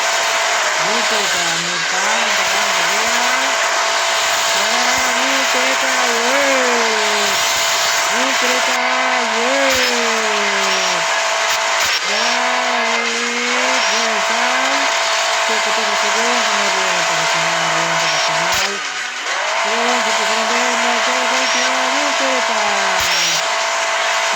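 Car engine in the Hill Climb Racing 2 video game revving up and down in repeated rising and falling whines as it accelerates with turbo, loud and continuous, with someone commentating over it.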